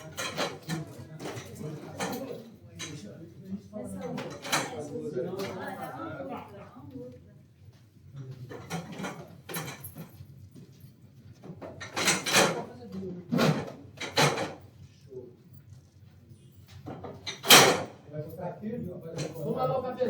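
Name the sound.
chairs being collected and stacked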